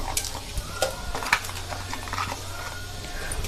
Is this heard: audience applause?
no